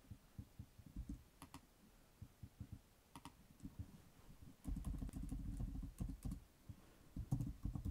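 Quiet, rapid typing on a computer keyboard while entering poll options in Microsoft Teams, irregular bursts of soft key taps with short pauses and a denser stretch midway.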